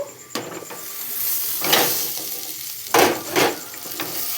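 Boiled, mashed potato being stirred and mixed with spices in a pan or bowl for aloo paratha filling, heard as scraping and squelching strokes with a couple of louder pushes, close and unaccompanied by talk.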